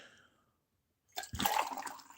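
After a near-silent pause, water suddenly splashes and pours close by, a loud, continuous gush filling the last second of the clip with no talking.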